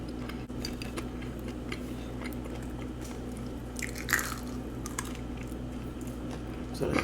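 Wet mouth smacking and chewing on a juicy, tender medium-cooked steak, heard as faint, irregular clicks and smacks over a steady low hum, with a louder burst of smacks near the middle.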